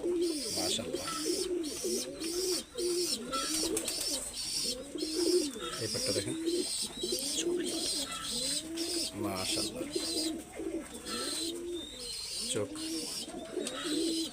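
A male red-eyed Teddy pigeon cooing, repeated rolling coos in a steady rhythm, close and clear, with light chirps from other birds behind.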